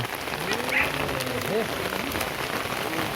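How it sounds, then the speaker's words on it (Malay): Steady rain patters on a surface throughout, a dense hiss of drops, with a voice speaking briefly over it. "Hujan."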